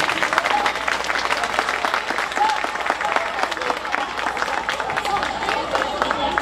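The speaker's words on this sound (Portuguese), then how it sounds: "Aplausos novamente." Audience applause at a literary festival in Sabará, following a children's singing performance; dense, steady clapping from a sizable crowd fills the whole stretch at even loudness, with some murmuring voices mixed in.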